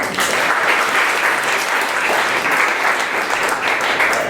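A room of attendees at a 1 Million Cups startup pitch event gives steady, full applause, a dense continuous wash of many clapping hands heard close and evenly throughout.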